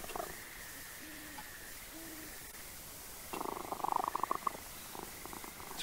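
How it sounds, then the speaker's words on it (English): A petted cartoon cat purrs in the Penny Arcade game On the Rain Slick Precipice of Darkness: a few soft tonal chirps, then a louder rumbling burst midway that fades into quieter purring, with no speech. "Pet the cat."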